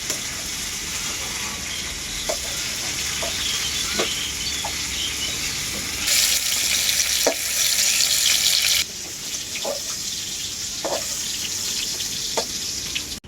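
Pieces of pointed gourd (potol) fry in oil in a kadai, giving a steady broadband sizzle with occasional small pops and a brief louder burst midway, with no talking.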